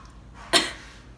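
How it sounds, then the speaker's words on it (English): A single short, soft cough from a patient during a chest examination in a COPD clinical setting, a brief burst close to the microphone over a quiet room. "Give me a little cough."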